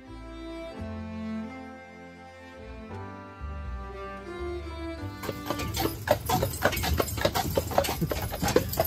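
Horse pulling a carriage on the Widecombe real ale trail on the moors, steady clip-clopping hooves entering midway with rhythmic close strikes after a stretch of music-like sustained tones.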